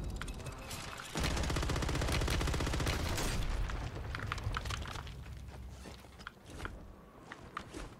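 A rapid burst of automatic gunfire from the Call of Duty Warzone video game rattles for about two seconds, then fades into scattered softer shots and clicks.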